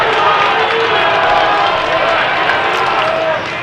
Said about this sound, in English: the Irish fans are getting motivated and starting to cheer